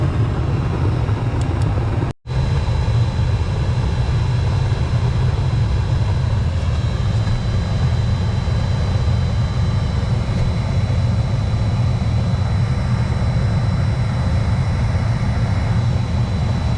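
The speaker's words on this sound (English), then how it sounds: "that's on the low setting on the blower. It's got low, medium, and high." A waste oil burner's blower runs on its low setting while melting car rims, giving a loud, steady, low-heavy roar that holds unbroken apart from a brief dropout early on.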